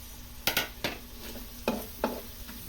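Onion being sautéed in a pan for menudo, with several distinct stirring scrapes and clatters over a soft sizzle, close up with no talking.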